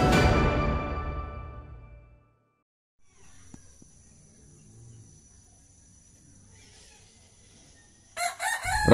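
A village rooster crows loudly and close by, a long falling call, followed by quiet farmyard ambience with faint clucking and a sharp burst of chicken noise at the end.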